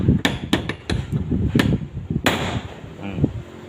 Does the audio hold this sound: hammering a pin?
yes